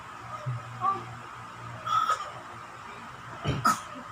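Three short bursts of coughing, spaced apart, sound forced and deliberate against a quiet background with faint voices.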